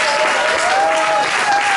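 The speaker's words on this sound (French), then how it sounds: "Donc on les applaudit tous bien fort." Audience applause at a French cultural event, dense steady clapping throughout with a faint sustained tone running beneath it.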